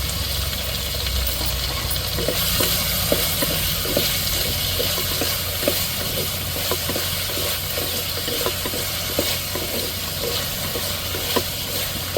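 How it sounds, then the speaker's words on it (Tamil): Onion, tomato, chili and curry leaves sauté in a pan with a steady, loud sizzle and repeated stirring scrapes throughout, with no talking. "வெங்காயம், தக்காளி, மிளகாலாம் நல்லா வதங்கட்டும்."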